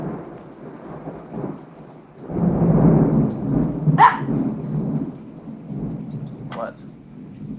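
Thunder rumbles through steady rainfall during a storm, a deep roll swelling loudly then easing, with a brief sharp crack partway; a person exclaims once.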